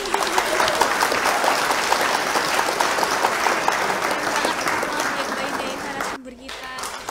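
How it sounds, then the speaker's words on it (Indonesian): Loud, dense audience applause at an Indonesian talk show on the Cabang Ranting Award and Virtual Expo, sustained for about six seconds before cutting off abruptly, followed by a brief quieter tail. "Mau tepuk tangan dulu boleh ya?"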